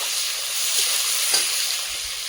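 A bay leaf drops into hot oil over a new stove, with whole garlic and whole spices alongside, producing a steady close hiss and sizzle for a couple of seconds.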